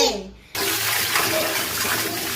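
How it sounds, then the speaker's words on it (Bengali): Tap water runs steadily and loudly over freshly cut fish pieces being rinsed in a kitchen, starting abruptly after a brief quieter moment with faint background sound. "মাছগুলো আমি দেখো কাটা হয়ে গেছে, ধুয়ে তুলে নিচ্ছি"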